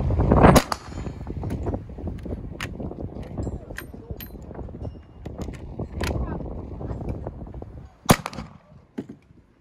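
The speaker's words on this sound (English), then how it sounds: "Starting with an 1874 trapdoor rifle and 45-70, take four shots at the large targets." Shots from an 1874 trapdoor rifle in 45-70 fired at large targets during a cowboy action shooting stage, sharp loud reports spaced through the run, with a big final crack and an announcer talking between.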